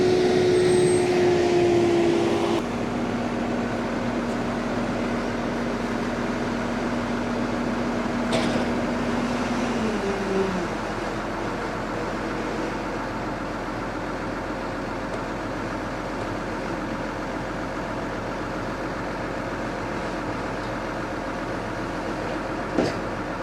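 A contractor's tractor and trailer tip wholecrop cereal silage at a cattle farm. A steady engine drone carries a tonal whine that shifts down partway through, with a few faint knocks and no voices.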